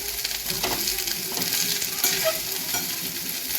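Food fries loudly in a pan over a full gas flame while being stirred, a constant bright sizzle with rhythmic scraping strokes from the spoon repeating through it, close and unbroken.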